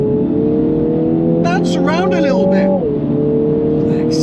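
A Mercedes SLK 55 AMG engine hums steadily at speed, its tone rising briefly then dropping back as the car is driven, while someone talks over it from inside the cabin.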